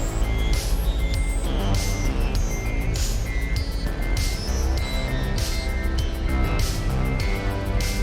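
A Kenworth W900 truck in American Truck Simulator sounds its reversing alarm, evenly spaced loud beeps repeating over a low engine rumble, with no talking.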